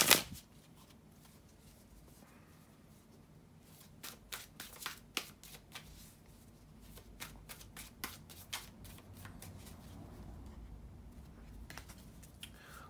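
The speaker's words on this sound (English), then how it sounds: "bear with me a couple of seconds, guys, to shuffle the tarot cards" Tarot cards are shuffled by hand in quick bursts of soft riffling clicks and flutters, close and quiet, with pauses between runs.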